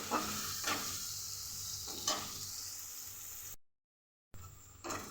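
Chopped onions with a little salt fry in hot oil in a pan, a steady close sizzle with a few stirring scrapes, broken briefly by a silent gap before frying resumes.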